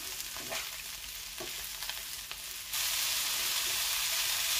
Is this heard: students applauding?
no